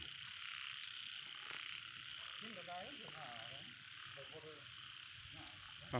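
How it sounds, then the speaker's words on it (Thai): Frogs croak at night in a quiet outdoor chorus, with repeated warbling calls over a steady background of buzzing insects and crickets, all heard from a moderate distance. "ฟัง เสียงกบเสียงเขียดห้องเน้อพี่น้องเน้อ"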